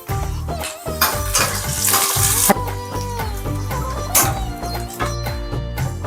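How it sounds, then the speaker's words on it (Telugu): Onions frying in oil left over from frying paneer for a paneer curry: a loud, continuous sizzle with crackling bursts and occasional stirring clatter, close and with no talking. "ఇప్పుడు ఇదే ఆయిల్లో ఆనియన్స్ ఫ్రై చేసుకుందాం"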